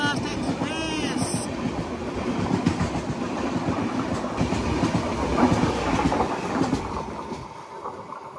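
The SMVT Bengaluru–Howrah Superfast Express rolls by close and loud, a continuous heavy rumble with rhythmic wheel clatter throughout and a short tonal sound near the start.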